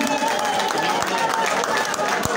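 A crowd at a political rally applauds itself, a dense, steady wash of clapping mixed with crowd noise that holds at an even level throughout.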